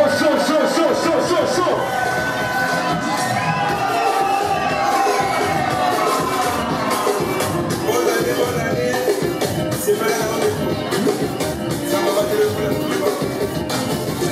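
Wedding guests cheer, whoop and shout with joy as a crowd, a loud continuous din of voices filling the room with excited calls and festive noise throughout.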